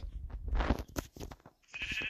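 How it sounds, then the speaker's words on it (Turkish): A sheep bleats a few times in the Minecraft video game, short wavering cries at close range, mixed with game clicks and thumps. "Aa koyun."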